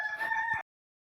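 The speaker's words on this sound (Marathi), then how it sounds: "कोंबडे पण आरवायला लागलेत" A single short rooster crow in a Konkan village around five in the morning, faint and distant, ending abruptly into silence.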